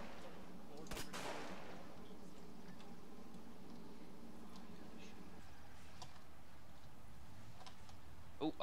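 A Slammer tank cannon fires in a video game battle: a single loud, sharp blast near the one-second mark followed by a rumbling decay, with faint game ambience and scattered small clicks after it.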